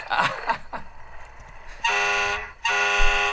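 A cartoon fire truck blares two long, loud horn blasts in a Family Guy scene, following a few seconds of lively voices and background bustle.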